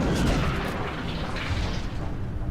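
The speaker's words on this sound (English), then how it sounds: "Probably should put a rocket into the bastard." A rocket blast in XCOM: Enemy Within, a loud, dense rumbling boom that stays heavy and sustained across the whole moment with no voices over it.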